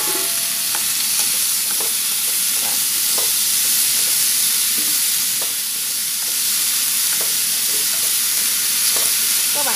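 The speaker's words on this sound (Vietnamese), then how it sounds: "bây giờ cái phần nấm này mình cũng sẽ cho vào xào luôn" Mushrooms stir-fried in a pan for a vegetarian rice noodle dish give a steady, close sizzle with scattered scrapes and clinks of the spatula stirring throughout, and no voices.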